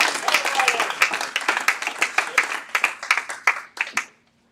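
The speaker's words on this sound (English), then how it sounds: "Give a great round of applause to Riley Malzard." A crowd at a real estate training event bursts into applause, dense clapping that gradually thins into scattered claps before stopping abruptly.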